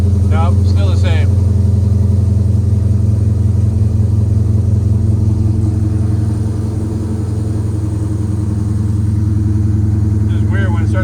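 A 1963 Ford Galaxie wagon engine idles steadily nearby with a deep, constant rumble, the idle dropping slightly as it warms up, while brief faint sounds come and go over it.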